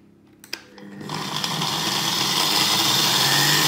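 A kitchen blender mixes cocoa for bonet, a Piedmontese pudding, starting after a few clicks and a short whir, then holding a loud, steady motor whine with no talk.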